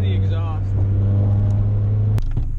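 A loud, raw engine roar with no exhaust fitted, from an RT4WD Civic battle wagon build, holding a heavy steady drone before cutting off sharply near the end; someone speaks briefly at the start.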